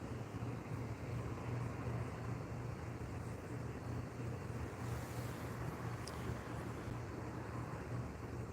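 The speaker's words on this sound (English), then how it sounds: "A little bit breezy there, Mrs. D." A breezy outdoor wind blows steadily as a faint, constant rushing wash with a brief gust-like flare midway, no talk over it.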